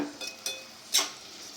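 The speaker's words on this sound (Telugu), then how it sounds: "ఇలా కదిపి మూత పెట్టి మగ్గనిద్దాం" A spoon clinks and scrapes against a pan while tomato and cucumber curry is stirred, giving a few light metallic taps over a soft background hiss.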